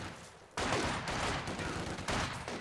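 Gunfire in the World War II strategy game Company of Heroes 2, a dense, steady burst of shots starting abruptly and continuing loudly for a couple of seconds with a brief lull before resuming.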